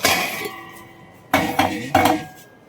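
A metal pot clanks and knocks against a hard surface, with one clatter at the start and then three sharp bangs in quick succession.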